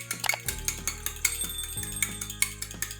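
A whisk or fork clinks briskly against a bowl while an egg is beaten for schnitzel, giving a quick run of light metallic taps and scrapes with no talking.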